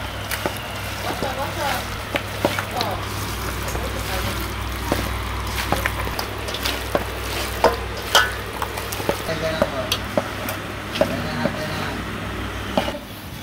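Potatoes and chopped onion are stirred and fried in a pan over a village cooking fire, a steady sizzle with repeated scraping clacks of a spatula while someone talks over it.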